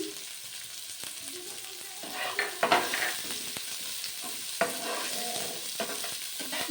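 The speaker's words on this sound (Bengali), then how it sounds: "ভালো করে মিশিয়ে নেব একেবারে সুন্দর করে ফ্রাই করে নেব দু মিনিট মতো" Green chillies and chopped ginger frying in a pan for a semolina breakfast, a steady close sizzle broken by repeated scraping strokes of a spatula that grow busier midway.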